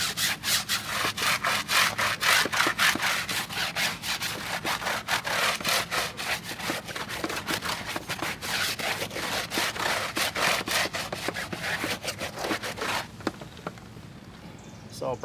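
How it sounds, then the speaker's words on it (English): A stiff Tough Shine brush scrubs a tire on a Jeep 392 with fast, steady back-and-forth strokes that stay close and loud nearly the whole time, then ease off near the end. "I got my Tough Shine brush and I'm going to start scrubbing this tire."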